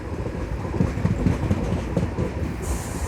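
MEMU express train from Narasapur to Rajahmundry rolling along, a steady loud rumble from on board with rhythmic clickety-clack of the wheels throughout.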